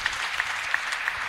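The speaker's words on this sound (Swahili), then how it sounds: "Makofi." Applause from a congregation during a Kikuyu-language thanksgiving church service, a brief, steady wash of clapping at moderate distance with no talk.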